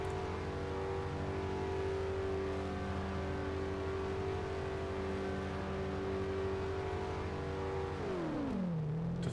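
A car engine in DayZ driving underwater, a steady droning hum held at constant pitch for several seconds, then sliding downward as it slows near the end, fairly quiet.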